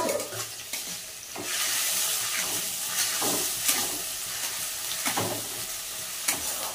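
Garlic paste and tomato frying in a pan, a continuous close hiss and sizzle with periodic scraping stirs of a spoon across the pan bottom, no talking.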